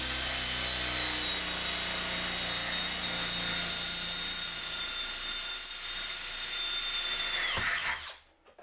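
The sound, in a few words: Makita hammer drill running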